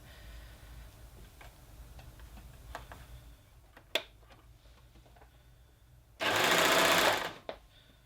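A sewing machine stitches a tier of a tiered dress in one short, loud burst of about a second. The burst comes after quiet handling sounds and a few faint clicks.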